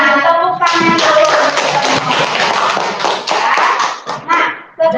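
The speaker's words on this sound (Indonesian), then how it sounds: "Tepuk tangan dulu." Classroom of children clapping together in a loud, dense burst that tapers off into a few scattered claps, with young voices mixed in.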